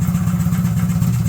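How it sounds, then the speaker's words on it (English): The two-stroke engine of a 1979 Polaris Apollo idles slowly, close and steady, with a low, even, pulsing throb and no other sound. "I'm in a very slow idle for 2-stroke."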